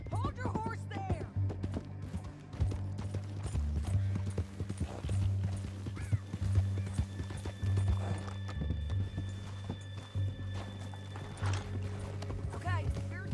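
Horse hooves clip-clopping in Red Dead Redemption 2, a steady rhythmic trot heard close under game music, with occasional whinnies and character dialogue spoken over the top.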